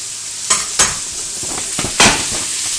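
Roughly chopped Brussels sprouts hit a hot frying pan and sizzle loudly up close, with several sharp bursts of scraping and tossing over a steady fry.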